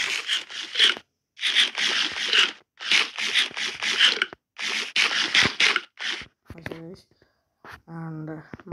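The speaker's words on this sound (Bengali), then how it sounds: "অ্যান্ড মাটন খাওয়া যাক।" Repeated crunchy chewing bursts from a character eating food in the block game Minecraft, several quick clusters with short pauses, followed by a couple of short burp-like tonal sounds.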